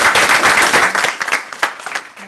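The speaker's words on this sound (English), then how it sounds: "another round of applause" An audience at a research talk gives a round of applause, loud and close, with many hands clapping in a dense patter that thins out toward the end.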